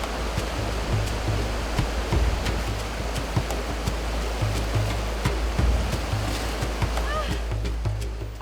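A wide river being crossed on foot, a steady rushing water flow with intermittent low rumbles and splashes, moderately loud.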